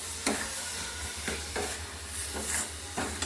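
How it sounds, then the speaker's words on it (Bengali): Pitha pieces with coconut being stirred in date palm jaggery: a steady low bubbling hiss with regular spoon strokes roughly every half second, close by with no talk. "দেখো পিঠেটা, নারকেলটা দিয়ে দিল খেজুরের গুড়ের মধ্যে। এবার নেড়ে নিচ্ছে ভালো করে।"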